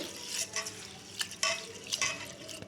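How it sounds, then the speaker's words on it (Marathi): Rice and moong dal being rinsed by hand in water, with soft swishing and light clinks of grains and vessel coming in short, close strokes. "तांदूळ आणि ही मुगाची डाळ त्याला स्वच्छ धुवून घेऊया पाणी घालून दोन तीन पाण्याने चांगलं धुवून घेऊया"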